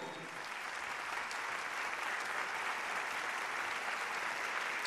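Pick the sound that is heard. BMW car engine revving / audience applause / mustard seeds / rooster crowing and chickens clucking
audience applause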